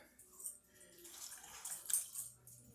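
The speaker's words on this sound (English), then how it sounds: "I'm supposed to mix or pour in a cup of water over my raisins and also a couple tablespoons of butter." A cup of water poured over raisins in a kitchen, a soft, brief splashing trickle that swells and fades over a couple of seconds, fairly faint and close.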